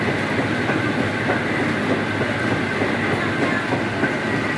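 A semi-automatic mustard oil pressing machine in a village mill runs with a steady, dense mechanical rumble and faint rhythmic clatter from its rolling parts, loud and continuous with no voices.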